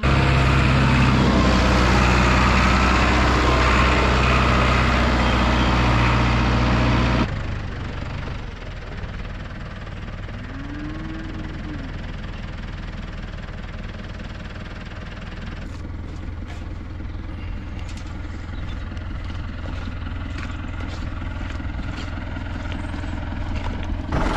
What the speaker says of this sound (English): I'm going to try my best to get the tractor in here, manoeuvre it some way I can get it across here, and lift the loader across that wire